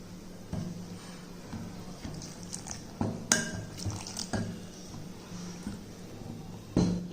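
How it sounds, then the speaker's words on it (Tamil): Water poured into a bowl of mixer-ground wheat rava, a soft trickling splash with small drips and clinks, fairly faint and close, with no voices. "நம்ம மிக்சியில் அடித்த கோதுமை ரவையை வந்து இப்போ நம்ம கொஞ்சம் தண்ணி ஊற்றி"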